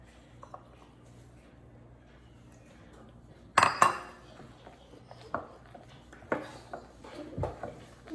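Sweet potato gnocchi dough worked with flour in a bowl, with quiet scraping and several sharp clinks of a utensil against the bowl, sparse and irregular, growing busier toward the end.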